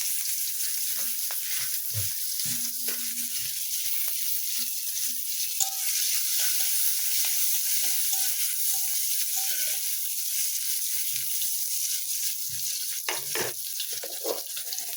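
Bay leaf, cumin and chopped onion fry in a pan with a loud, steady sizzle that runs throughout, broken by occasional soft stirring knocks and scrapes, with no voices.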